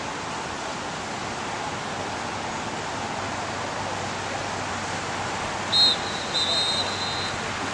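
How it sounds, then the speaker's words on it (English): A referee's whistle at a U13 youth soccer match between Manchester and Seacoast gives two short, fairly faint shrill blasts near the end, over steady broadband field and crowd noise. "there's a whistle followed by a whistle"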